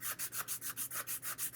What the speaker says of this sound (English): clean out some of these little grooves a little bit, just with a full piece of sandpaper